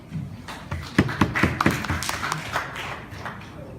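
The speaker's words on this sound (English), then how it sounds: "Please help me welcome Youth Leader Muhammad Maaz with a thunderous round of applause." An audience gives a round of applause to welcome a young speaker: dense, bright clapping from many hands that swells quickly and keeps going, a little uneven, filling the hall.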